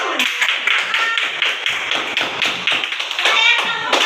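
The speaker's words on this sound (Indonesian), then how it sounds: "Kita kasih tepuk tangan dulu." A classroom gives a group presentation a round of applause, brisk close clapping from several students that holds steadily for about four seconds.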